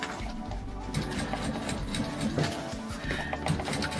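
A sewing machine stitching a cross-body bag, a continuous close mechanical whirring with rhythmic needle thumps that pause and resume briefly.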